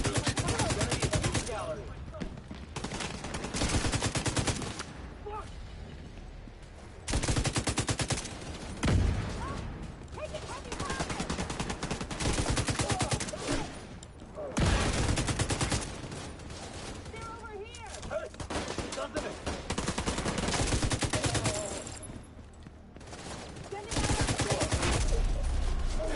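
Light machine gun fire in the video game The Division 2 rattles out in long, loud sustained bursts separated by short pauses, with occasional voices in between.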